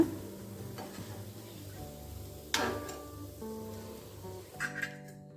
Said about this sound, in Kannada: ಈಗ ಇದನ್ನು ಮತ್ತೊಮ್ಮೆ ಫ್ರೈ ಮಾಡ್ಕೊಳ್ಳೋಣ